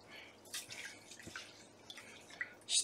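Brown rice is swished and rinsed in a pot of water, making faint intermittent splashes and drips with a brief louder slosh at the end.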